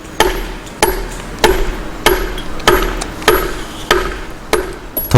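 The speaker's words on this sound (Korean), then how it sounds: "석재를 도드락 망치로 두들겨서 더욱 평평하게 만드는데 이를 도드락 다듬이라고 한다" A bush hammer dresses a stone surface with about nine sharp, evenly spaced metallic strikes in a steady rhythm, each ringing briefly at close range.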